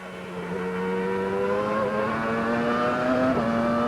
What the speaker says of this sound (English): Car's running well.